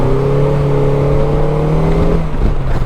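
A 2025 Polaris Slingshot engine revs hard and steady as its rear wheel breaks loose, a loud, close, sustained drone with rising harmonics that dips and shifts near the end, with no talking.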